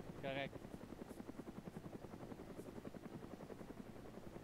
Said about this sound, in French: On va essayer de tirer sur l'hélico avec.